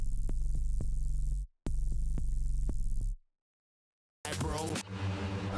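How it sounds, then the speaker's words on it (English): A deep, booming sub bass tone with a hiss of white noise on top, sounding in two long bursts, then silence before a brief noisy hit. "just a simple sub which I've layered with some white noise"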